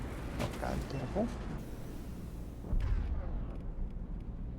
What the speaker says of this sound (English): I probably don't want the explosions to be this close to the Mako